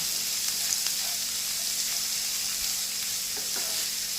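An onion tadka roasts in a pan, sizzling loudly and continuously, with faint scraping ticks from stirring and no one talking.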